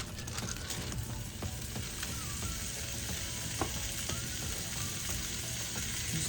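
Turkey sizzles and fries in a hot pan alongside garlicky cauliflower, a steady close crackling hiss with occasional faint stirring clicks, no voices.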